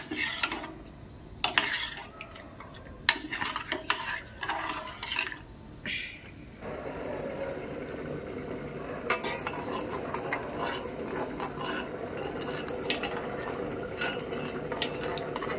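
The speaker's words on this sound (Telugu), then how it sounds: "ఇలా ఉడికేటప్పుడు కూడా మెల్లగా కలుపుకోవాలి" Jowar flour porridge is stirred in a cooking pot, with a spoon scraping and clinking against the pot in quick irregular strokes, then a steady wet bubbling simmer continues underneath.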